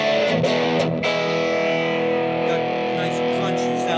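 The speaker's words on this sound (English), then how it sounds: "Now I'm going to add more distortion with the dirt knob" Electric guitar played through a Monkey FX pedal with the distortion turned all the way up, a few struck chords ringing out into a long, sustained, crunchy fuzz, loud and close with no voice over it.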